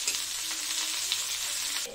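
Chunks of potato and pumpkin frying in a pan, a dense steady sizzle close up with a few faint stirring ticks, dropping slightly at the very end, no voices.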